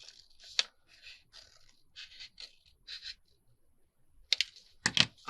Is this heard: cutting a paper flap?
yes